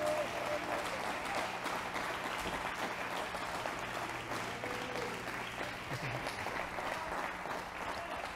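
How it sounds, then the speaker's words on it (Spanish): Church congregation applauding, a steady wash of clapping throughout with faint voices beneath, fairly distant in a large room. "Denle un aplauso fuerte al Señor."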